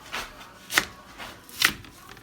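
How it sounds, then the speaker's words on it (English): A knife slices an onion in half on a cutting board, giving two crisp chopping thuds, each with a short scraping onset, close and clear with no talk. "I cut the onion that I put right here in half"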